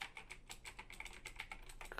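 Rapid clicky keystrokes on a Razer BlackWidow Tournament Edition mechanical keyboard patter in an uneven, continuous stream, close and fairly quiet, with no talking.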